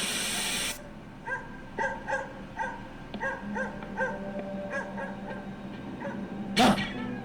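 A dog in an anime scene gives a series of short yelps and whimpers in a rhythmic run, fairly close and clear, after a loud burst at the start and before a sharp sound near the end.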